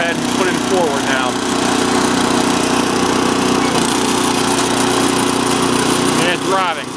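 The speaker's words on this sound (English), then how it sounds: "There's forward, so we'll go ahead and put it in forward now." A Cub Cadet RT65 rototiller runs with its engine in a steady, loud, close drone as it drives forward, while someone talks over it.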